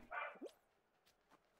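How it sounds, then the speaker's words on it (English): A dog indoors barks at cats outside, one sharp bark followed by a short yelp and faint whimpers, fairly close over a quiet room. "he's just barking at the cats outside"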